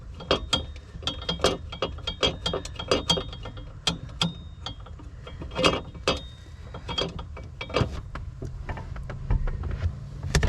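A ratchet tightens a nut during a battery replacement on a Toyota Avalon, giving rapid, irregular bursts of sharp metallic clicks close by, with no talking.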